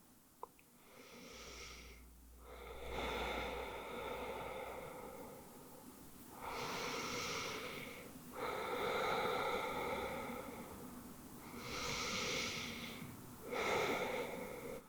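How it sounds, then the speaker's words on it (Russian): Slow, deep breaths during a home yoga session for beginners, several long audible inhales and exhales in a steady rhythm, close to the microphone with no talking. "Сделайте 3 глубоких дыхания."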